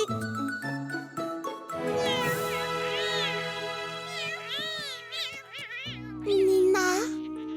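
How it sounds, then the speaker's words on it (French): Several high-pitched kitten meows, wavering and overlapping, sound close by over tinkling music and brief bits of speech. "Parce que Nina a eu des chatons dans ta perruque."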